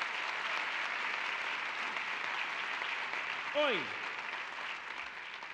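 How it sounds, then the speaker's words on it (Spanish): Applause at a live stage show, a broad steady clapping from the audience that fills the space, with a short spoken exclamation near the end. "¡Aplausos!"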